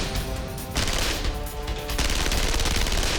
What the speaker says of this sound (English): Firing on full auto with this weapon system is a lot of fun.